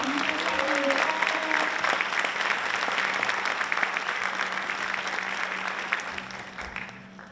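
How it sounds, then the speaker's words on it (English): Sustained applause from people at a school board of education meeting, welcoming a student award winner; dense, steady clapping holds for about seven seconds before thinning slightly at the end, with a faint voice briefly underneath. "Let's give him a nice round of applause."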